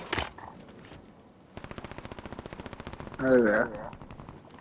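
Rapid automatic gunfire from a Call of Duty match, a quick even burst of shots ringing out in the middle, with players chatting over the game audio before and around it.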